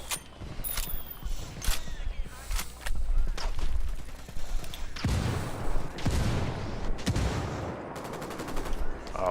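Mortar barrage in Ghost Recon Wildlands: a run of sharp, loud game explosions and gunfire blasts in irregular bursts over about nine seconds, with heavier booming impacts in the second half and no talk.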